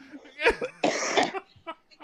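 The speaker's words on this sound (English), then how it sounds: "Now I'm coughing because I'm smoking and I'm drinking and I'm talking to you and I'm coughing." A person coughs a few rough, close coughs mixed with brief bits of speech and throat sounds.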